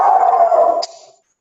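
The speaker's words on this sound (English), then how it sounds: "sorry about the dog." A dog indoors gives one loud, drawn-out howling bark lasting under a second, then trails off into a brief fading whimper before silence.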